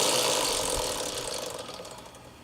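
A motorcycle rear wheel spins freely on its freshly adjusted drive chain, giving a steady close ratcheting whir with rapid chain ticks that slowly fade as the wheel coasts down.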